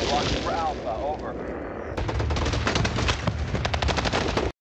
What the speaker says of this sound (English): At least they're shooting actual enemies this time.